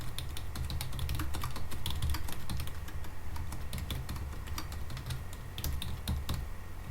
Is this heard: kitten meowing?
no